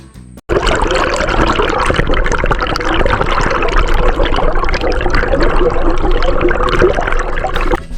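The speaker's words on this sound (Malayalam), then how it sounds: "ഇവിടെ വെള്ളം ഇങ്ങനെ ഒഴുകിക്കൊണ്ടിരിക്കുന്നുണ്ട് തണുത്ത വെള്ളം ഇങ്ങനെ ഒഴുകിക്കൊണ്ടിരിക്കുകയാണ്" Cold water flowing steadily at Aanakulam in Munnar, a loud, close, continuous rushing and splashing that starts abruptly after a brief quiet moment and carries on without a break.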